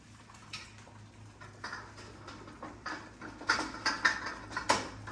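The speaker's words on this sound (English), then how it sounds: "I need to get a jar out of the boiling water" Clinks and knocks of a glass jar against a metal pot of boiling water as it is lifted out, a cluster of sharp clattering hits growing louder toward the end over a low hum.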